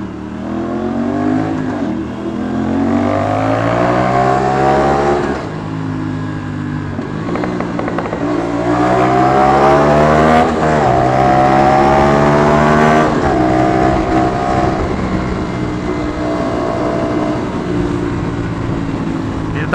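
An Aprilia RS 457 450cc sportbike engine revving close by, its pitch climbing and dropping in repeated throttle blips and gear changes, loud and raspy throughout.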